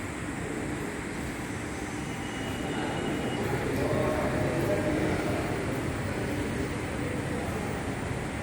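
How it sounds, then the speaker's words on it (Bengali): A Kolkata metro train runs from Noapara onto Jessore Road on its first commercial ride. A steady rumble and whine of rolling cars is heard from on board and grows slightly louder midway. "নোয়াপাড়া থেকে যশোর রোডে ঢুকছে ট্রেনটা।"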